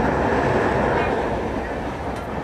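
Steady rumble of a passenger train heard from inside a carriage on the Mancherial to Hyderabad line in Telangana, a loud continuous roar with dense low rattling that eases slightly toward the end.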